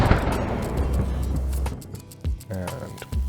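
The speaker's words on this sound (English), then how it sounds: "And mid, no, this is probably far." A far-distance gunshot sound-effect layer: a muffled boom with a rolling, diffuse tail, followed by a couple of softer distant thumps and reflections, with no voices.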